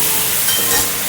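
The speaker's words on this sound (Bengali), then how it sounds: "এই যে ঝিঙেটা ভাজা হচ্ছে।" Ridge gourd sizzles in hot oil in a pan, a steady loud frying hiss that runs throughout without talk.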